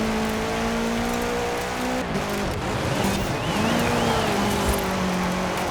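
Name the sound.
car drifting with e-brake in video game Forza Horizon 4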